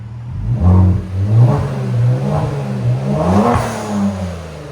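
A Kia Stinger GT with a 3.3-litre twin-turbo V6, stage tune and muffler delete, revving loudly up close: deep surging engine swells rising and falling several times in a raw, throaty exhaust note, without speech.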